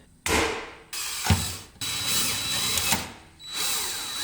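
A power tool tightens bolts on a BMW E30 during a fuel surge tank install: four loud, close whirring bursts with ratcheting clatter, separated by short pauses.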